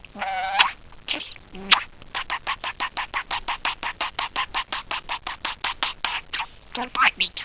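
A pet budgerigar chatters up close in a rapid, steady run of bright, rhythmic chirps and warbles, loud and continuous with a few sharper squawks at the start and end.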